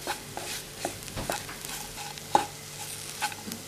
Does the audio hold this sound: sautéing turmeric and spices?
yes